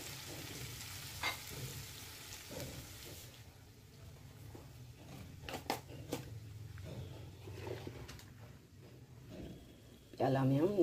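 Cooked tangy Gujarati-style potatoes are scooped from a pan into a bowl with soft scrapes, squishes and light clinks, while a voice talks quietly over the close-up kitchen sounds.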